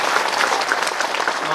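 An audience at a Bhagwat Katha religious gathering bursts into dense, sustained applause, many hands clapping loudly at close range for the whole short stretch.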